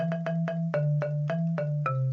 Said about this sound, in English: Right now what we're hearing is called a marimba.